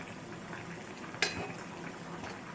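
Mutton curry simmers in a pot with a soft, steady bubbling hiss and one brief louder pop, faint and close, with no talking.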